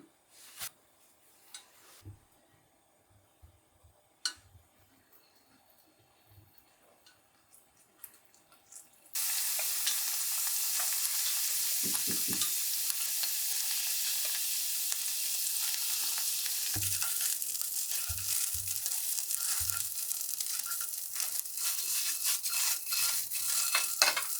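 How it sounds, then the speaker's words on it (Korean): Joraengi rice cakes pan-fried in a little oil, with a few quiet clicks and taps before a sudden loud, steady sizzle that keeps crackling up close, broken by occasional knocks of a utensil against the pan. "이제 다 익은 조랭이 떡을 기름 약간 두른 팬에서 가볍게 물기를 날리듯이 구워줄 겁니다"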